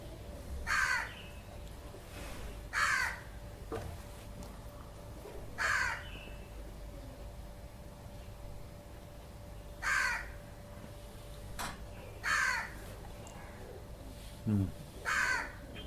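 A crow caws repeatedly outdoors, about seven harsh calls spaced every couple of seconds, moderately near, over a steady background hum during a gathering.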